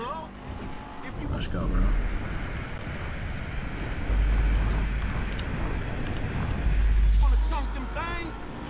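Racing car engines roar through a street race in Grand Theft Auto 5, a steady loud drone that swells and fades as cars pass, with voices talking over it throughout.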